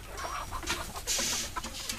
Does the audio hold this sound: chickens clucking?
yes